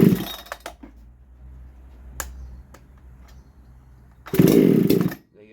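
Farmertec G288 chainsaw with an HRH muffler mod cold-starting: a few sharp pull-cord clacks, a low idle rumble, then a loud close burst of raspy engine roar that cuts off.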